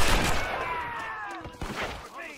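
Rapid gunfire in a Red Dead Redemption shootout, several loud overlapping shots and sharp cracks across the stretch, with shouting voices mixed in.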